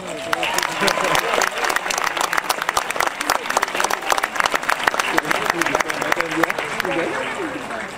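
Audience applause welcomes the chancellor at a college graduation ceremony, dense sustained clapping from a large crowd filling the whole stretch and easing slightly at the end.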